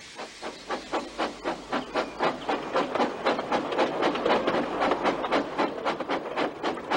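Rhythmic chuffing hiss of a steam locomotive, steady bursts of steam repeating about three times a second, loud and close with no voices.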